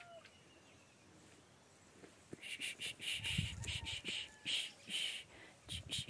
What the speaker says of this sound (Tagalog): Tunog ng ibon.